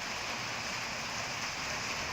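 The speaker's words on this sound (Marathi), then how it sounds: "शाहूवाडी परिसरात विजांच्या कडकडाटासह जोरदार पाऊस सुरू झालाय" Heavy unseasonal rain falls in Shahuwadi, Kolhapur, with thunder and lightning around, a dense, even hiss of downpour continuing without a break and with no voices.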